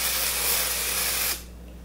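A Flower Beauty Jet Set invisible powder spray fires one loud, close, continuous hiss lasting over a second before cutting off sharply.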